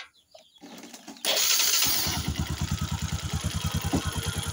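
A motorcycle engine cranks with a few short bursts, then catches and settles into a loud, close, rhythmic idle with evenly spaced pulses.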